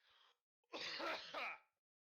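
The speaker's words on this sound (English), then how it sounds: "I have to clear my throat." A short, rough throat clearing, close and loud, preceded by a brief softer breathy sound, then silence.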